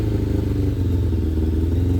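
A restored Suzuki GSX750F motorcycle engine runs at a steady idle just after starting, a loud, close, throbbing low rumble with mechanical clatter and no voices.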